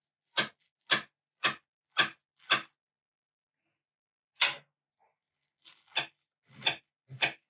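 A knife cuts into a baked Southern cornbread breakfast casserole as a series of crisp, evenly spaced taps against the dish, five in a row, then a pause and a few more irregular ones.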